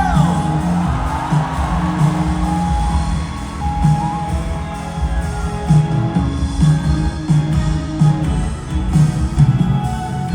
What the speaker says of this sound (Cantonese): 我哋俾掌聲佢哋。